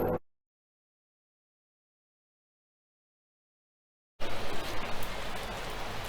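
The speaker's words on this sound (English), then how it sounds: "I've opened the door and you can probably hear the rain now." After a stretch of silence, steady rain on Capri, Italy starts up as a constant hiss, fairly close and even, heard through an open hotel room door.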